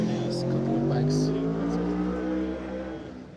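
Motorbikes rumble past at a Tyrigrava gathering, a loud, steady engine drone close by that fades slightly toward the end, while a voice speaks over it.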